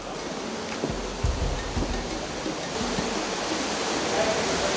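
A waterfall near the Samu caves roars as a steady, full wash of falling water, with faint thumps and movement close by and occasional voices under it.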